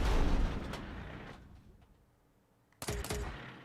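Tank cannon blast in the video game Tanky Tanks as a tank fires through a wall, with a loud booming rumble that fades away, followed by a second sharp explosive burst.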